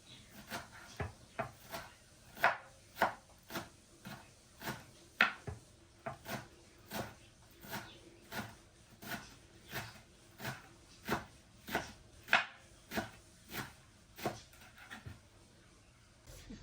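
Chili peppers being cut into small pieces with a knife on a board: a steady run of crisp, evenly spaced chops, roughly two per second, close and moderately loud with no talking.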